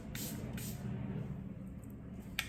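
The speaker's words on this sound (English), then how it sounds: "that's where I'm putting my setting spray, because I want to set the cream product" Setting spray is spritzed onto a face over a finished cream foundation base: a few short, soft airy hisses close to the microphone with quiet background hum between them.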